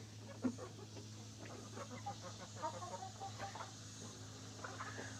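Rhode Island Red and Columbia Wyandotte hens with a rooster cluck and murmur in a coop, with short overlapping calls over a steady low hum.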